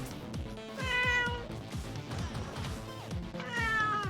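A pet cat meowing insistently, with several drawn-out, wavering meows close by, heard over busy arcade game music and effects from Streets of Rage 4.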